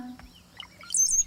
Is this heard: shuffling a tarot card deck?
no